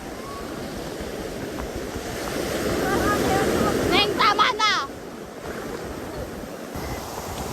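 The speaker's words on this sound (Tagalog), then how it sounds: "So ito, dito kami sa alon." Surf rolls and washes ashore with steady broadband roar and wind buffeting the mic, while a person calls out briefly partway through.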